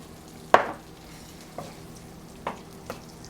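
Butter melting in a hot wok while cooking seafood fried rice: a sharp metallic clank from a utensil against the pan, then a few softer scrapes and taps over a quiet, steady sizzle.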